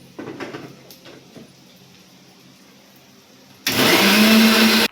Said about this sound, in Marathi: मिक्सरमधून काढते बारीक.